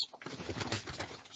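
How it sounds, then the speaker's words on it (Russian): Domestic pigeons cooing indoors inside a rural house, a soft continuous murmur of overlapping coos filling the room at moderate closeness with no talk. "Вон у меня, смотри, какие голуби."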